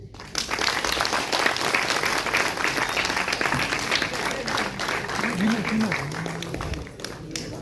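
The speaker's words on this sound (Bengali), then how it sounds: "সকলকে বলবো বিপুল করতালির সাথে এটিকে স্বাগত জানাতে" An audience breaks into sustained applause at a college magazine cover unveiling, steady clapping filling the hall while voices talk over it.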